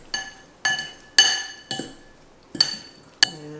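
A spoon clinks against a glass bowl while marinated cherry tomatoes with black pepper are stirred, giving six sharp, separate taps spaced about half a second apart with quiet gaps between them.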